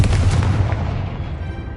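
A Confringo explosive fire spell cast in Hogwarts Legacy, heard as a loud, close booming blast with a heavy low rumble that fades away over under two seconds.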